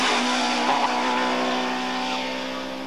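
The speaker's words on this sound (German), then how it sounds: "Martin Kleiner auf seinem Audi 50. Herbert Morent auf seinem VW Sorg Polo." Audi 50 and VW Polo race cars at a hill-climb event, engines roaring loud and steady close by, a sustained high revving drone with a slight fade toward the end, no voices.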